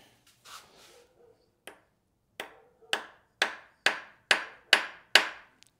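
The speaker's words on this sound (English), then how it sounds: "Just going to give that a good whack." A hammer strikes a metal bit driver during a Toyota Land Cruiser engine teardown, in a run of sharp, ringing blows that grow louder and steadier, about eight hits in quick succession after a couple of lighter taps.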